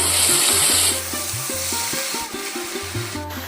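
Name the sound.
drumstick leaves added to boiling water in a pan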